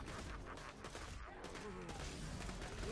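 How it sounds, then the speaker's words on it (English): Gunfire from shooting an enemy in the Borderlands video game, a busy stream of rapid shots and impacts layered with game effects, steady and fairly quiet throughout, with faint talk underneath. "We're shooting this guy"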